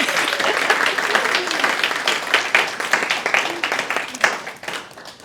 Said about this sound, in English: we can start with a round of applause